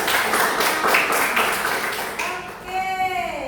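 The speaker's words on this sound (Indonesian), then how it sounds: "Kasih tepuk tangan." Classroom applause as students clap together for a classmate, a dense burst of claps that fades after a couple of seconds as a teacher's voice resumes speaking.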